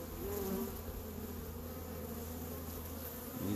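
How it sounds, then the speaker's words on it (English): Honey bees buzz busily at a hive entrance on a warm July late morning, a dense steady drone with individual bees whining past close to the microphone, fairly faint and continuous. "These bees are pretty warm and getting out and ready to forage for the day."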